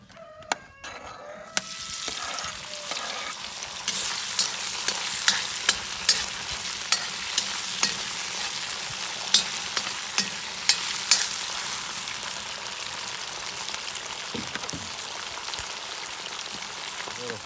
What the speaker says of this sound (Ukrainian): трошки піджаримо баки копчені і до них кинемо е, м'ясо